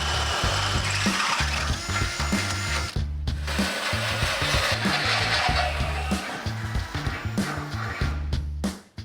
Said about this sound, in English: We'll start by using a smaller bit for our pilot hole before stepping up to a 1/2-inch drill bit.